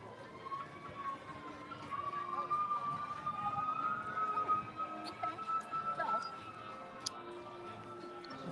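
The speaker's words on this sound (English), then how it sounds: "You don't normally hear sirens here." Emergency vehicle sirens wail faintly in the distance at Walt Disney World's Epcot, a thin rising and falling tone under crowd chatter and nearby talk.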